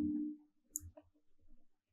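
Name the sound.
single mouse click sound effect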